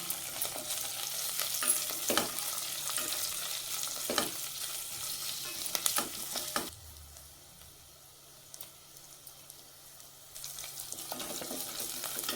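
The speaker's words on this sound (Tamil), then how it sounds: "வெங்காயம் தக்காளி வதங்கி வருது" Onions, green chillies and curry leaves sauté in a pan for Karnataka-style bisi bele bath, with steady close sizzling and repeated spoon scrapes and stirs, dropping quieter in the middle before the frying noise returns.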